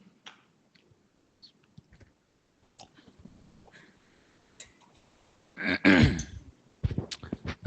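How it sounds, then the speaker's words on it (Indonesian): A man coughs dry, harsh coughs, a loud close burst followed by a couple of shorter coughs, after a stretch of faint clicks and near silence. "Nggak ada reaknya, batuk kering"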